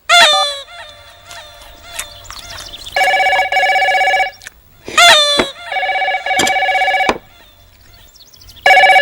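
A telephone rings repeatedly in loud bursts, interleaved with sharp comic sound effects in a film comedy scene.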